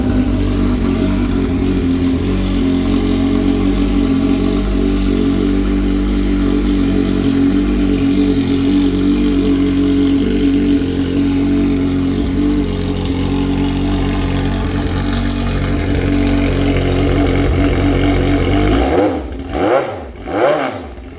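Suzuki Hayabusa drag-racing motorcycle engine running loud and steady with a rough idle throughout, then a few sharp throttle blips near the end, close by and alone.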